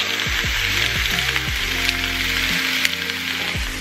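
Meat searing in a hot pan for a watercress boil up, a steady loud sizzle close by with a few clinks and scrapes of utensils along the way.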